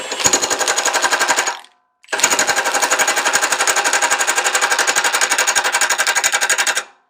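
A Milwaukee 2767 impact wrench tightens a nut with rapid, loud hammering bursts, first a two-second run and then, after a short pause, a longer run of about five seconds. Heard up close with no talking.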